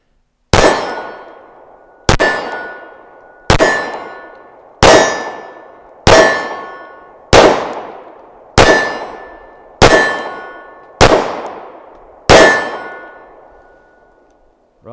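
Ten sharp metallic clangs ring out at an even pace, each fading slowly, as a TISAS 1911 Stingray 9mm pistol hits steel targets; no talk is heard.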